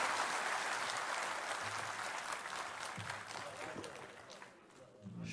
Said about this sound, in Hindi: अशोक के लिए एक जोरदार ताली बजा दीजिए